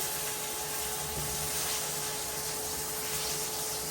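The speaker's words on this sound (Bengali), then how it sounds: "একটু ভাজা ভাজা করে নিই।" Potato and eggplant pieces fry in hot oil with a bay leaf and cumin, giving a dense, steady sizzle that hisses evenly throughout at close range.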